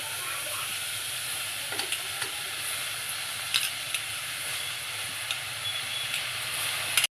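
Kohlrabi stir-fries in a pan with turmeric and salt, a continuous close hiss and sizzle with occasional sharp pops and crackles over a low steady hum.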